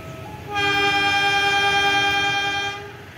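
Sri Tanjung passenger train departing Lempuyangan station sounds a loud, sustained horn of about two seconds that starts abruptly and then fades, over a low rumble.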